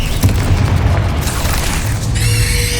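A Confringo spell explosion in Hogwarts Legacy, with a loud booming blast followed by a second burst and crackling, layered over game music and effects.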